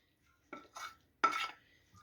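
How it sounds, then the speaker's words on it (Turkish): Marinated meat for fajitas goes into a cooking pot, heard as a few short, soft clatters and scrapes of food and utensil against the pot, quiet and close, with no voices. "Şimdi ben etlerimi e, tencereme alacağım."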